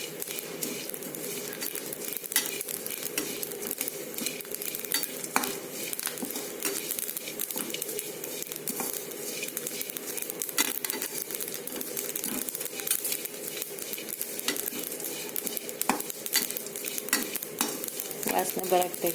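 Whole spices for sambar powder (huli pudi) dry-roast in a hot pan, crackling and spluttering steadily with light stirring scrapes throughout, close and continuous with no talking.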